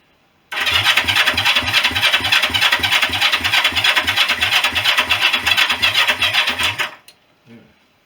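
Honda CB350 motorcycle cranked over on a weak battery: a steady, rapid mechanical chugging of the starter turning the engine for about six seconds without catching, close and loud, then stopping.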